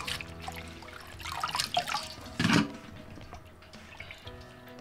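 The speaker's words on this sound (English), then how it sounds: "First thing you do is you're gonna wash your magenta plants really well." Magenta plant leaves being washed in a sink with running tap water, with splashing, trickling and handling of wet leaves, a brief louder splash midway, fairly close and quiet overall with no talking.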